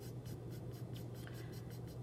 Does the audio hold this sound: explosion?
no